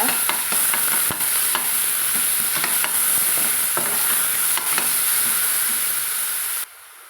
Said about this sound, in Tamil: அந்த கீரை அரைச்சி வச்சுக்கிறதையும் கூட சேர்த்து வதக்கலாங்க